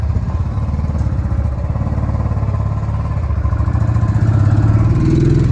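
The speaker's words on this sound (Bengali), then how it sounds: "এই হচ্ছে ও বাইকটা ঢুকিয়ে দিল," A motorcycle engine idles and revs nearby, a steady rumbling drone that grows a bit louder toward the end. There is no talking.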